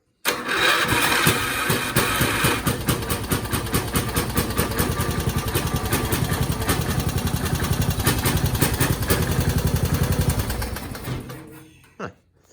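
A cheap lawn tractor engine cranks and catches with the choke on, then runs at a rough, loud idle for several seconds before sputtering and dying away near the end.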